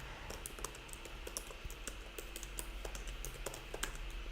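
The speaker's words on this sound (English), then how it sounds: "I'm going to type it out here in the chat" Rapid typing on a computer keyboard, a steady stream of quiet close-up key clicks with irregular rhythm over a faint background hum.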